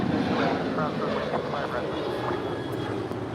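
A 21-year-old American Airlines Boeing 737-800 departs LAX for Dallas Fort Worth, making a loud, continuous broadband jet roar, with voices talking over it.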